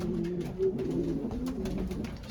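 A racing pigeon hen cooing softly in a loft, low throaty murmurs repeating in a gentle rhythm, quiet and close with faint background rustle.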